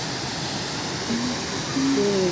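The Gudguda waterfall spilling into three pools makes a dense, constant roar of rushing water, close and loud, with a few faint tonal sounds drifting over it.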